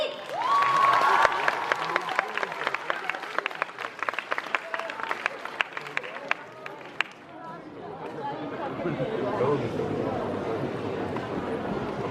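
Scattered clapping from a small audience at a cosplay contest at a Japanese culture convention rises briefly then fades into crowd chatter and murmuring voices.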